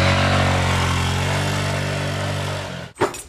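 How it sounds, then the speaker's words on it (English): A moped engine runs loud and close with a steady buzzing drone, gradually easing off before cutting out, followed by a brief rustling bump. "Get my moped real quick."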